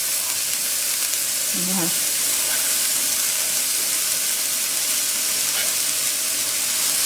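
Keto chicken fish cakes frying in a pan and being flipped, giving a steady, close sizzle and hiss throughout, with a few faint soft knocks and someone speaking briefly over it.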